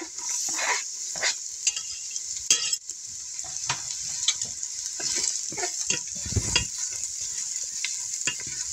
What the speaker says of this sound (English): Just give this a regular stir so it doesn't burn.